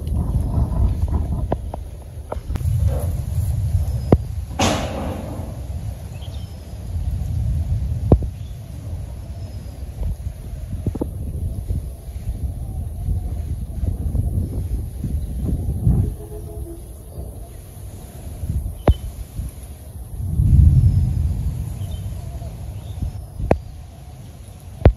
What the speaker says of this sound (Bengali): বাতাস ছাড়ছে, বাতাস ছাড়ছে